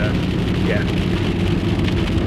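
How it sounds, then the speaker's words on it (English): Rain falling during a flash flood in the Colorado Rocky Mountains near Glen Haven and Estes Park, a steady loud wash of drops with a low rumbling roar underneath, continuous throughout. "here comes the rain again"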